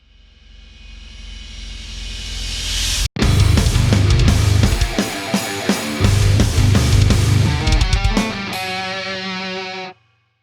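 Electric guitar through a Coolmusic Multiple distortion pedal, heavily distorted, plays loud, dense chords and riffs after a brief quieter strum, ringing out until it cuts off near the end.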